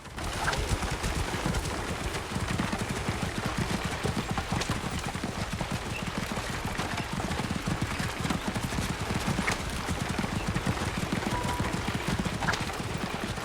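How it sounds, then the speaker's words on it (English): Horses gallop continuously in Assassin's Creed Origins on a road from Alexandria to Krokodilopolis, a dense, rapid clip-clop of many hooves that stays steady and close throughout. "These horses would be exhausted if this was their real life, real trip. They've just been running the whole time."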